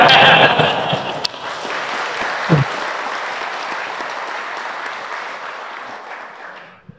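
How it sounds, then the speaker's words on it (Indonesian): An audience bursts into loud applause during a religious gathering, the clapping peaking at once and then slowly fading over several seconds. "Kenapa jadi tepuk tangan begitu?"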